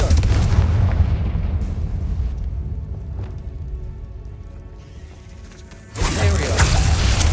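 Confringo fire-blast spell from the Hogwarts Legacy video game, a loud rumbling boom that decays over several seconds before a second sharp burst erupts near the end.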